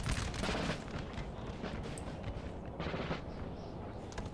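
Musket volley gunfire from a Napoleonic-era battle at Ettlingen, 1796, in the Napoleon Total War game, heard as dense crackling rifle fire with an opening burst and another ragged volley later, over constant battlefield rumble.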